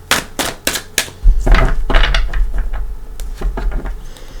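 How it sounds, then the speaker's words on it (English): Tarot of Dreams cards being shuffled by hand, a run of sharp riffling snaps and flutters close up, loud and uneven, with a longer rustling stretch in the middle and no voices. "let's bring back the Tarot of Dreams. I want to give him a couple shuffles"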